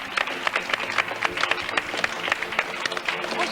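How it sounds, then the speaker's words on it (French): Studio audience applauding on the set of a 1992 French television children's show, a steady dense patter of clapping throughout with a host speaking over it. "Voici Benjamin et Virginie, on peut les applaudir"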